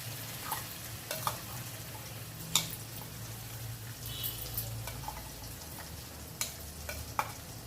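Chutney frying in a pan on low heat, a soft steady sizzle with occasional stirring scrapes and clicks of a spoon against the pan, close and fairly quiet, no voices.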